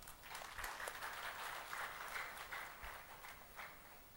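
An audience at a hotel recognition event applauds together, a steady wash of clapping with a few sharper claps standing out, moderately distant and with no speech over it.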